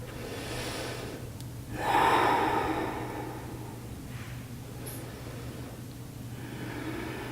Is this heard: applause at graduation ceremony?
no